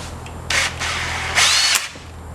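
Two short bursts of a power drill whining as it bores a hole for a switch during wiring work on a BMW-engined Mazda MX-5 Miata, the pitch climbing during the second run, with a low hum underneath.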